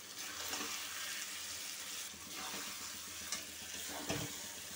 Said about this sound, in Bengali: তো মশলার সঙ্গে পটল আর মাছ দিয়ে কষাই নিলাম।